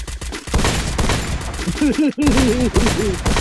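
Rapid bursts of gunfire from the Free Fire battle royale video game, a dense crackling fusillade that runs nearly throughout, with a player's voice talking over it.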